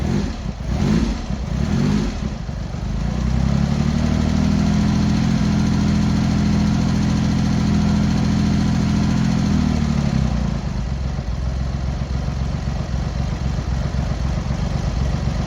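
A Triumph Hurricane TRIX75 motorcycle engine runs on half choke just after a kick start, settling into a loud, steady low idle with a slightly raised throttle hold that eases back after about ten seconds.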